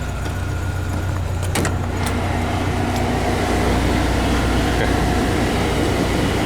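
Volkswagen Westfalia van engine idling in a garage, a continuous low rumbling drone with a steady hum, a few brief clicks early on, close and constant without speech.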